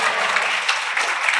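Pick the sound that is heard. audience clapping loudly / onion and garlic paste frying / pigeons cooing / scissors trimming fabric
audience clapping loudly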